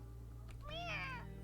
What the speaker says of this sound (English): There's a meow, and that cat appears at Makoto's feet.